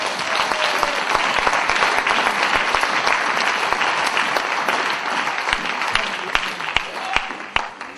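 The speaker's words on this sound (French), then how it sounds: "Est-ce qu'on peut acclamer pour la gloire de Dieu?" A church congregation applauds loudly and steadily during a worship service, dense clapping sustained throughout with sharp individual claps standing out near the end.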